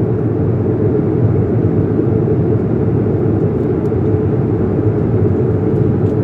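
Cabin of a Bulgaria Air Airbus A220-300 climbing in flight: a loud, steady low engine roar with broadband rushing air, constant and unbroken, no voices.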